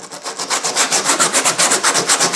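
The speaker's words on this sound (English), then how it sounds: "to remove the glue, I got this steel brush" A steel brush scrubs old glue off a VW headliner board in quick, regular back-and-forth strokes, loud, close and raspy, with no voices.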